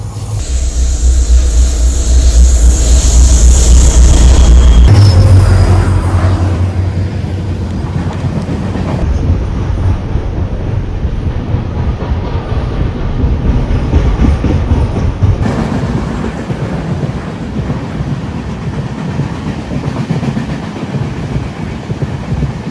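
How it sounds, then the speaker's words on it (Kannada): A train rolls past close by, a loud rumbling roar with rail clatter and hiss that gradually eases into a steadier rushing noise as the carriages continue by. "ಗಾಯ್ಸ್ ಇಲ್ಲಿ ಟ್ರೈನ್ ಒಂದು ಬರ್ತಿದೆ, ನಿಮಗೆ ಕ್ಲಿಪ್ ಹಾಕ್ತೀನಿ ನೋಡ್ಕೊಳ್ಳಿ."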